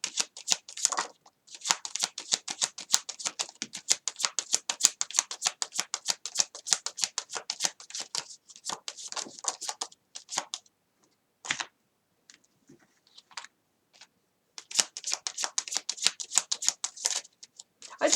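Tarot cards being shuffled and moved on a table: rapid, close, papery flutters and clicks in long bursts, broken by pauses and a few single taps before shuffling resumes.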